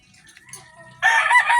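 A rooster crows loudly and close by, preceded by faint clucking and softer bird calls.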